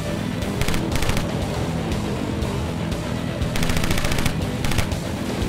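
A gun fired in the video game Road Redemption: repeated rapid bursts of loud gunfire in several rattling volleys over continuous engine and game noise.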